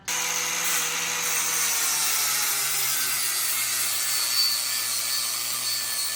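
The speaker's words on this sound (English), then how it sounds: "it's time to get the grinder back out. We need to kind of clean up all these spots on the frame" A grinder cleans up the steel frame of a Jeep Wrangler TJ, a steady, close, high-pitched abrasive whine and hiss that holds continuously with slight pitch drift.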